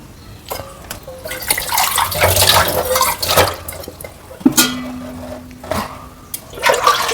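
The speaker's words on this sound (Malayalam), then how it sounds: "ഇതിൽ ആവശ്യത്തിന് വെള്ളം." Water poured into a cooking pot in a home kitchen, splashing in several uneven bursts with brief pauses and drips between them.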